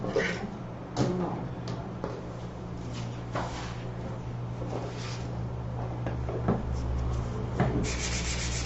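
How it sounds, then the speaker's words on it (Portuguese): Sandpaper rubs over a wooden box in short strokes at close range, a soft scratchy rasp that comes and goes over a low steady hum. "Vou lixar só essa parte aqui inferior."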